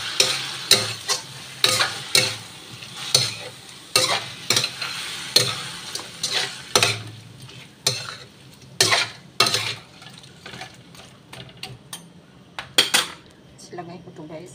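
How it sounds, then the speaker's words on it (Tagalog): Prawns fry in sambal chilli with curry leaves while a spatula stirs the pan in repeated scraping, clinking strokes over a constant close sizzle. "Lalagay ko na yung hipon."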